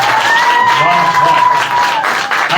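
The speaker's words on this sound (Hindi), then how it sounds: "चलो एक बार छोड़कर ताली बजाकर प्रभु को" A church congregation claps hands together in praise of the Lord, a loud sustained wash of applause with a voice calling out and singing over it.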